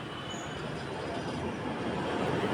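An Alexandria Raml tram approaches from the opposite direction, a low steady rumble of wheels and motor that slowly grows louder across the whole stretch, with a sharp knock right at the end.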